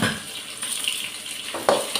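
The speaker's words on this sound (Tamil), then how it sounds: "கல்லுப்பு போட்டு நல்லா வெங்காயத்தை பொன்னிறமாக வதக்கலாம்." Onions and rock salt sautéing in a pan, giving a continuous soft sizzle with a sharper scrape of the stirring ladle near the end.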